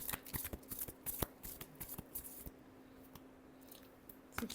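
Tarot cards are shuffled by hand in a quick series of soft riffling taps and flicks, close and quiet, easing into a lighter pause near the end.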